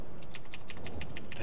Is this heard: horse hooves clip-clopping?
no